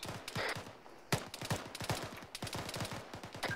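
Scattered rifle shots crack in quick uneven volleys during an Arma 3 firefight, some sharp and near, others softer and farther off, with brief gaps between bursts.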